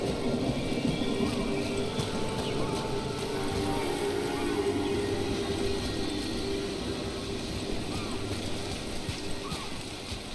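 Steady rain falling in the fantasy video game Dragon Age: The Veilguard, with a constant dense hiss and occasional low rumbles, continuous and even throughout with no one speaking.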